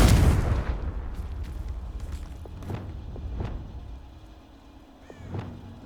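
A Confringo fire curse from Hogwarts Legacy erupts in a loud, close blast that rumbles and fades over a few seconds, with fainter thuds and crackles trailing behind.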